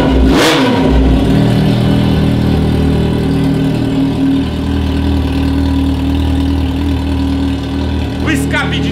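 A Yamaha XJ motorcycle engine fitted with an aftermarket 32/50 exhaust starts with a sharp blip, then settles into a loud, steady, throaty idle right next to the listener.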